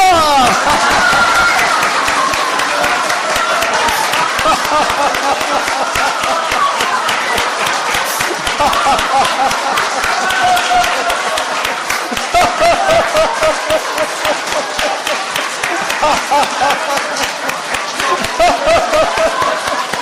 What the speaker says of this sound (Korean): 다 같이 손뼉 치면서 웃음 발사!